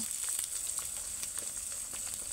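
A sunny side up egg fries in a pan, giving a steady, close hiss of sizzling oil with faint crackles and pops throughout and no talking.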